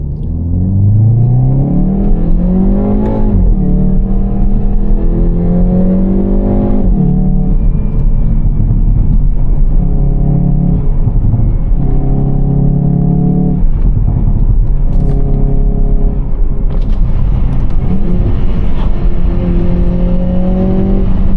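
A 2024 Hyundai i30N's engine on a night drive, heard from inside the cabin as a loud, continuous rumble that climbs and drops through repeated gear changes and revs, with occasional sharp exhaust pops.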